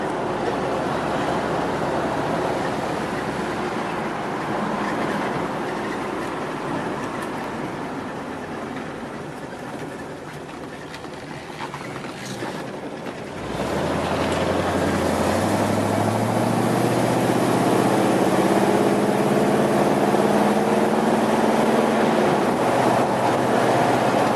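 1969 Oldsmobile Cutlass S with a crate 350 engine while driving: a low engine rumble under strong wind and road noise, which rises with a clear climbing rev as it accelerates over the second half.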